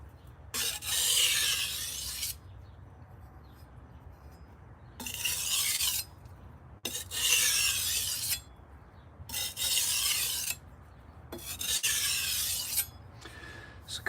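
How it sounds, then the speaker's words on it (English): A knife's burr is removed on a sharpener in a handful of separate rasping strokes, each lasting about a second and a half with short pauses between them, close and crisp. "So a couple little burr removal passes."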